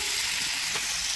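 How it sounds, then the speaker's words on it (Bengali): Chicken pieces for tandoori chicken fry lightly in white oil and butter, giving a steady, close, crackling sizzle with no pauses. "প্রথমে আমরা চিকেনগুলোকে সামান্য সাদা তেল ও বাটার দিয়ে সামান্য হালকা ভেজে নেব"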